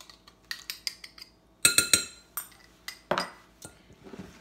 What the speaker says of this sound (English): Just want to combine that all up and stir it over the potato salad.